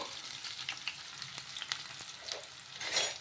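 Onions sizzle and crackle in hot oil with cumin and mustard seeds, a close, steady frying hiss dotted with small pops, no voices.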